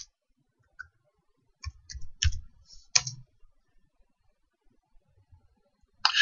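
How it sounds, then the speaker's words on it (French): Keyboard key presses in Blender 3D software, entering a search after pressing Space in Edit mode: a few scattered clicks, then a quick burst of close, crisp taps with pauses between them, ending in another short flurry. "Ensuite, on appuie sur Espace et on cherche bisect."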